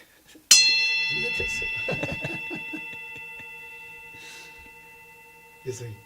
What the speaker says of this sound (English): do people care about hearing the bell?